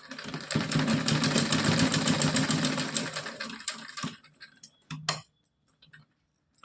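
Sewing machine rapidly stitching a small cotton doll dress, a fast run of even mechanical ticks that stops after a few seconds, followed by a couple of short clicks and quiet.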